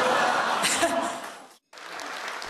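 Applause at a joint South–North Korean dinner held in a friendly mood, a dense burst of clapping mixed with chuckles and voices that breaks off abruptly, then resumes more softly.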